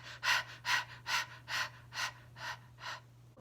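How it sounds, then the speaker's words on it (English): A person pants rapidly as a breathing exercise, eight quick, even breaths in and out in a steady rhythm, close and clear over a low hum. "So we'll breathe in and out, panting."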